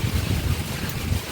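Strong wind gusting through a thunderstorm in Chennai, heard as a continuous low buffeting roar against the microphone that masks any rainfall, with no voices.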